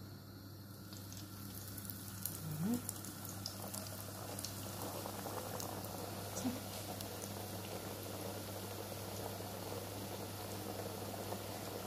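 Hot oil for frying makrout, a semolina pastry, bubbles softly and continuously in a pan. The steady patter stays faint and even, with a couple of small clinks.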